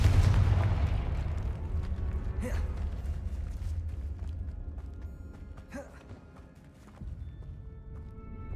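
Confringo fire spell blasts in the Hogwarts Legacy video game, two sharp bursts that crack out over a steady low rumble of game ambience, fairly loud.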